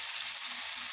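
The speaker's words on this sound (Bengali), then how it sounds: "পেঁয়াজ হালকা ভেজে নিয়েছি" Onions frying in mustard oil in a pan for a fish curry, giving a steady, close, even sizzle with no talking.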